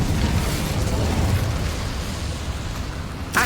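A sustained roaring whoosh of the Incendio fire spell in Hogwarts Legacy, steady and dense for several seconds before fading slightly and ending with a short bright burst, with no talking.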